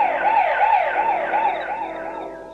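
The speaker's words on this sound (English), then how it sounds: "Many kinds of alarms are also available." An emergency siren wails close and loud, rising and falling in a quick regular sweep several times before it starts to fade.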